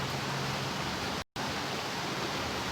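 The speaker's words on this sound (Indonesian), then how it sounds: "Hujan deh." Steady rain falling outdoors near a garden, a dense even hiss filling the whole stretch with one brief cut to silence midway.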